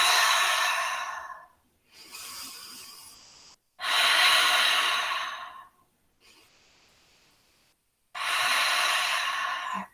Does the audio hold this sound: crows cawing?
no